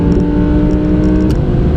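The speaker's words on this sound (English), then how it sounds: "let's get some pace on the go and see that engine noise" An Audi R8 Performance Pack engine revving on a race track, a loud, steady, close-up engine roar running throughout with slight rises in pitch and no talking.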